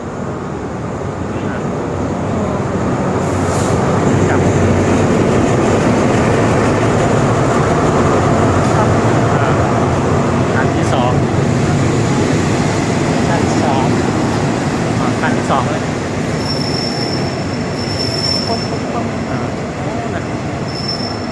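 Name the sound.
third-class train arriving at station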